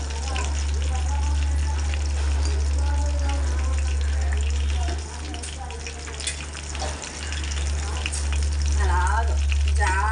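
Pandugappa fish fries gently in oil in a pan alongside green chillies, with a steady crackling sizzle up close and a low hum beneath, while a voice talks intermittently over the cooking.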